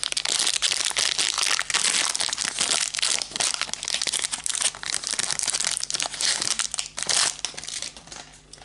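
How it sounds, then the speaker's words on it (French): A Magic: The Gathering Strixhaven booster pack wrapper is torn and crumpled open up close, a loud continuous crinkling and rustling of foil plastic with no talking. "il me reste 6 boosters à ouvrir"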